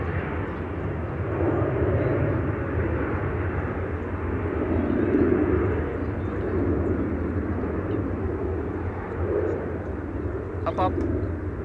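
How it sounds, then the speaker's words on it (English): An Embraer airliner takes off at Amsterdam Schiphol Airport, giving a loud, steady jet roar that holds throughout with slight swells, heard from a spotting position nearby. "Nippon Cargo taking off via the runway that this Embraer is now taking off from."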